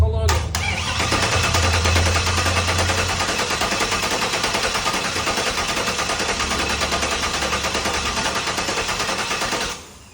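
A car fitted with a newly installed Holley Terminator X fuel injection system cranks on its starter for about ten seconds, a loud, steady, rapid churning rhythm that cuts off abruptly without clearly settling into an idle.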